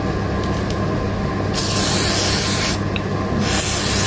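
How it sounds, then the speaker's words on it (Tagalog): Lubricant sprayed from a can onto a fan belt bearing: two bursts of hissing spray, the second shorter, over a steady background rumble. "Una, lagyan muna natin papadulas."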